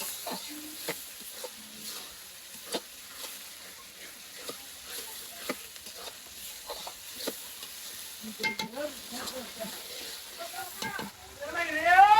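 Ginger, garlic and chili paste fries in a pan for chicken khichuri while being stirred, giving a steady low sizzle broken by repeated scraping clicks of the spoon, with a louder burst of stirring near the end.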